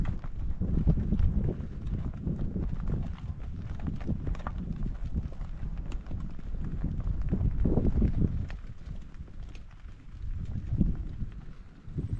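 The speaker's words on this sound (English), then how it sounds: "You can hear them pulling the grass." Steady ripping and munching as cows tear at grass in a paddock close by, a continuous rough crunching texture with wind noise over the microphone.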